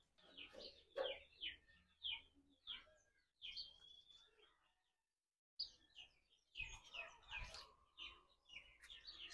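Small birds chirping and tweeting in a backyard bird and poultry house, a quiet series of close, bright calls that pause for about a second before resuming, no talk.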